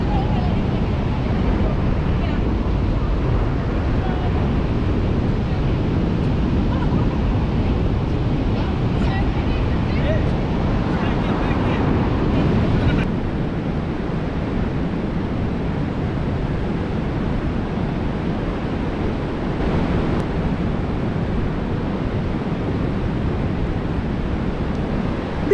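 Continuous wind and surf roar on Muriwai beach, steady and fairly loud throughout, with no clear voices over the broad noise.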